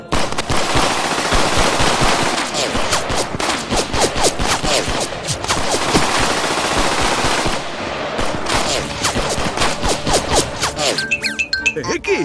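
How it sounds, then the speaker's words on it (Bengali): Rapid bursts of machine gun fire, loud and continuous, rattling in dense volleys with brief pauses, no talking over it. "একি আমার গুলি সব খতম"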